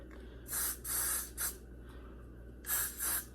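Five short bursts of a spray bottle hissing close by onto a wig, two long sprays, one quick one, a pause, then two more.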